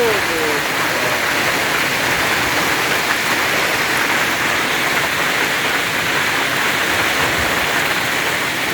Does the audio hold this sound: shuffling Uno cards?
no